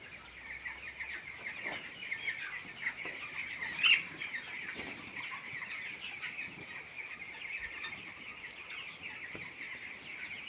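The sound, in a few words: chickens clucking and flapping in a poultry farm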